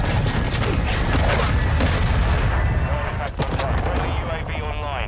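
Airstrike explosions in the video game Modern Warfare 2: dense, loud, continuous booming and crackling blasts that roll together over several seconds, with voices faintly underneath.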